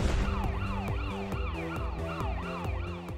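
A West Midlands Ambulance Service rapid response vehicle siren wails, sweeping up and down repeatedly in a steady, loud cycle, with a rapid yelp pattern layered over it, close by and continuous.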